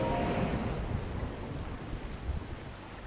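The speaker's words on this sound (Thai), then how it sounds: "ฟ้าผ่านะครับ แถวนี้ฝนตกก็ระวังกันด้วยนะ" A heavy roll of thunder over steady rainfall in Zelda: Breath of the Wild, a deep rumble loudest at the start that fades into continuous hiss of rain, with no voices.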